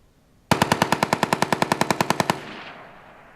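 A rapid burst of about seventeen evenly spaced gunshots is fired by an actor for a sound-effects recording session. The shots are close and loud, then leave a fading tail of room echo.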